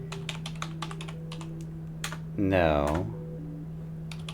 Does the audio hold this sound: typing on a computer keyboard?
yes